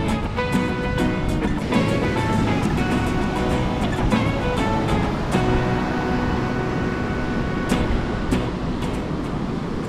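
Ocean surf at Praia Brava beach in Santa Catarina rolls in as a continuous loud wash of breaking waves, with rushing broadband noise and no clear pauses, recorded close to the shore.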